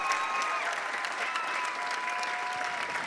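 An audience at a gala applauds steadily, a dense wash of clapping with a faint whistle or cheer on top and no speech over it.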